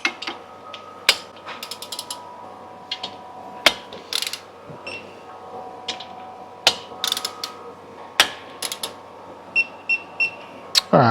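Torque wrench ratchet clicking as Harley-Davidson Twin Cam cover bolts are tightened a little at a time over James gasket kits, giving sharp, close mechanical clicks in irregular bursts of one to several.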